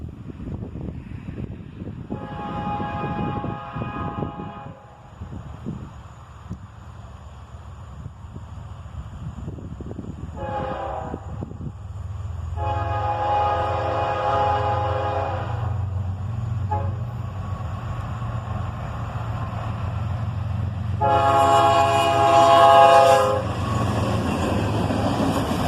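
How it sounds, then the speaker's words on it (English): A heavy freight train pulled by five locomotives, including an ES44DC, rumbles past steadily, with several loud multi-tone horn blasts sounding over the continuous low roar of the locomotives and cars. "a nice little horn honk from the engineer there"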